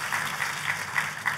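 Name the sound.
congregation applause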